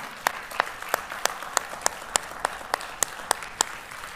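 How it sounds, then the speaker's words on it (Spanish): A church congregation applauds, with steady rhythmic claps at about three per second ringing out in unison over a soft murmur. "Y ustedes deberían dar un aplauso por eso."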